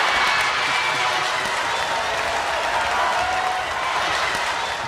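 A large, largely African-American crowd at a town meeting applauds in a dense, steady wash of clapping that holds at full strength for about five seconds, with cheering and voices mixed in.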